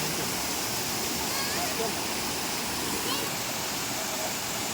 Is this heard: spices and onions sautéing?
no